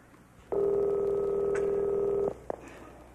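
A telephone sounds a single long steady ringing tone lasting nearly two seconds, followed by a short click-like blip, in a quiet room on a stage comedy recording.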